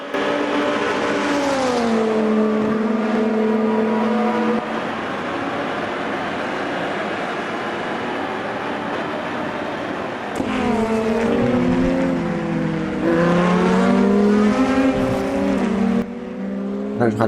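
Race cars in the Automobilista 2 racing game on the Indianapolis circuit drone loudly and steadily at speed, engine pitch falling and rising through gear changes and passes, continuous throughout.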